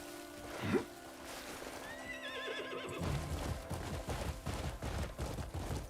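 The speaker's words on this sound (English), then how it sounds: "Come here, Mr. Horsey." Horse whinnying in the Honkai Star Rail video game, one rising neigh over a busy game soundtrack with hoof clatter and bursts of gunfire-like effects.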